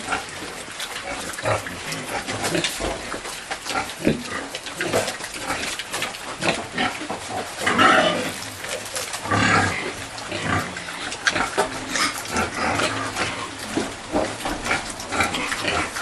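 Several pigs grunt and snort continuously, with occasional louder squeals and rustling, close by and busy throughout.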